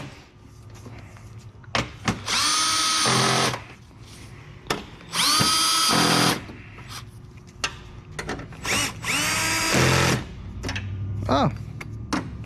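Bursts of a power drill run in short, loud pulses, several spaced a second or two apart with clear spin-up and wind-down, tightening fasteners on a 2003 Toyota Camry 4-cylinder radiator; a voice speaks between bursts.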